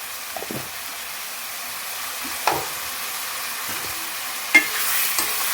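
Onion chicken fry sizzles steadily in a pan over a high flame, with a few distinct scrapes and knocks of a stirring spoon standing out against the even hiss.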